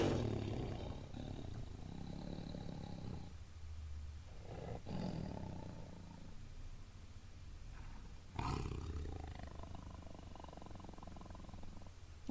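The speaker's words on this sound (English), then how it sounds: "We also have tigers. Listen to the sound." Tiger roaring in a zoo setting, several deep rumbling roars with short pauses between them, close and fairly loud, with little else around.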